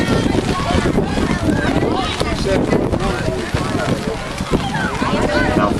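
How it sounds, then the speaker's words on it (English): Wind buffets a microphone at a high school football game on a rainy day, making a loud, constant roaring rumble. Muffled voices are mixed into the noise. "Wind."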